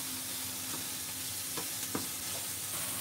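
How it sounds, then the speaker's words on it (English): Soft, steady sizzle of food being stir-fried in a pan until lightly browned, quiet and close, with a few faint scrapes of a utensil against the pan. "stir fry until it become brown, not totally brown"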